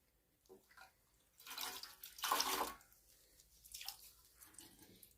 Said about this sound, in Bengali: এরকম একটা টাওয়েল নিয়েছি, এটা আমি গরম জলের মধ্যে একটু ভিজিয়ে নেব।